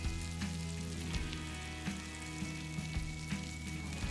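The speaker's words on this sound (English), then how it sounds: "You want it to actually fry in oil." Seasoned potato fries frying in hot oil give a steady, moderate sizzle with small crackling pops scattered throughout, no voices over it.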